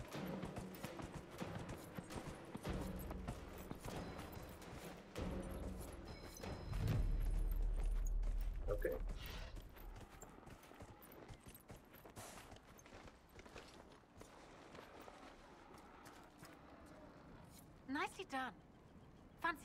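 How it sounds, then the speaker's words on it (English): Horse galloping in Dragon Age: Inquisition, a steady stream of hoofbeats running under game sounds and someone talking over it, with a louder burst partway through. "It seems the horse can just gallop a lot."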